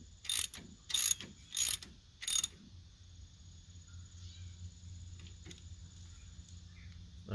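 Hitch bolts being screwed into a Ford 909 rotary cutter hitch, giving four close, loud bursts of ratcheting in the first few seconds, followed by quiet background hum.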